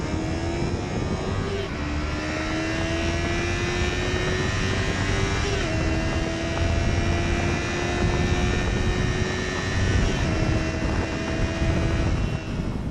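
A 2015 Yamaha R3 motorcycle engine winds up steadily while riding, its pitch climbing and dropping back several times through gear changes, with heavy wind rush throughout.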